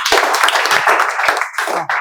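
Students in a spoken English classroom clap together, a burst of dense, lively hand claps that carries on for about two seconds with slight pauses near the end.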